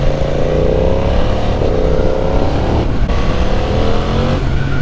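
A sport motorcycle with a quickshifter and Akrapovič exhaust accelerates hard on a circuit, engine note rising in pitch with sharp, quick gear changes breaking the loud, close roar.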